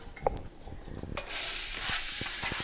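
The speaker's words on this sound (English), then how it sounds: "You got that little sizzle going" Leeks hit a hot pan and a steady, bright sizzle takes over, with a few stirring knocks and scrapes underneath.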